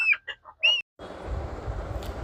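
Several short high chick cheeps from a Kappiri breed chick in quick succession, then a sudden switch to a broad noisy rustle with faint clucking in the background.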